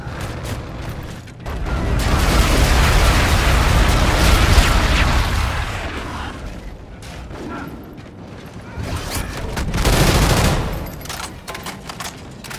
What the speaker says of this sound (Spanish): Bombardeo amigo en camino.